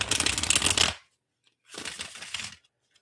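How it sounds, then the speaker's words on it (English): Tarot cards shuffled by hand in two bursts of crisp riffling, a longer close burst and then a shorter one after a brief pause, with no talking. "let me do some preliminary shuffling of my cards"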